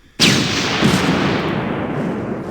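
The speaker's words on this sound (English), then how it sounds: "I want to use one of these artillery strikes, so I'm going to drop it right there where I know there to be quite a few enemy infantry." An artillery strike in a video game, dropped on enemy infantry, hits with a sudden loud blast that rolls into a long, dense rumble of explosions and debris filling the rest of the moment, with no talk.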